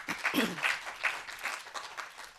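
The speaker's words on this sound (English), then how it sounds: "So a big round of applause" An audience at a university skills conference session gives a round of applause for a young school student, a fairly faint, brief patter of clapping that tapers off quickly.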